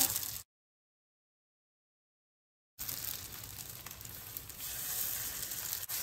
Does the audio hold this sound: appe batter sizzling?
yes